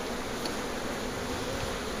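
A steady, dense buzzing of many honeybees on a comb frame close by, constant and unbroken, with no voices.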